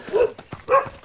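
A dog met on a morning trail run makes two short close barks or yips about half a second apart, with quieter snuffling and movement between them.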